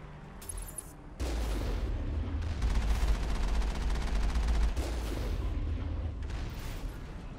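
Heavy cannon firing in the video game Mass Effect, a continuous loud barrage of booming blasts and rumbling impacts, steady after a quieter opening, with no talk over it.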